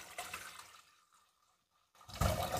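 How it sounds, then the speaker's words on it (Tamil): Soaking water from black kavuni rice being poured into a heavy-bottomed pot, a liquid splash that fades to near silence before a louder pouring gush returns at the end. "இந்த தண்ணி மட்டும் முதல்ல ஊற்றிக்கோங்க."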